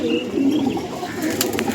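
Star pigeons at a pigeon loft coo in a low, soft murmur, with a few faint higher chirps layered over a steady background hum.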